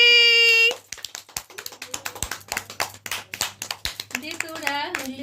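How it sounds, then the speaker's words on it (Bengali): Several people clap hands together at a family wedding-anniversary celebration at home, a short burst of quick sharp claps that starts after a brief musical tone and carries on under chatter and a voice. "হাততালি"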